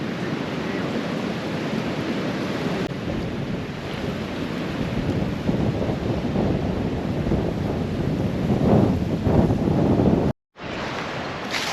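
Strong wind blowing steadily outdoors across the open Loess Hills, a loud broadband roar that surges and gusts without pause, briefly cutting out near the end.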